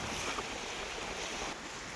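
Cyclone-driven waves slosh on Veeranam lake, a steady rushing wash of water mixed with gusty wind buffeting the microphone, fairly faint and continuous for a couple of seconds with no voices.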